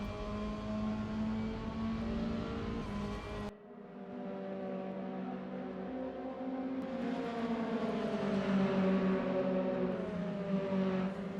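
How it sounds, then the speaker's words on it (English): An onboard Mazda MX-5 race car engine at Sonoma during a championship sprint race drones loudly and continuously, with a brief gap at a gear change and then rising revs as it pulls hard. "Enjoy the sounds of the Mazda engine."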